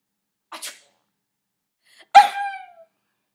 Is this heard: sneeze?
yes